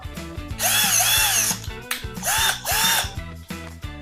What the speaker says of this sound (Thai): เจาะฝ้าเจาะไม้ไม่มีปัญหาครับ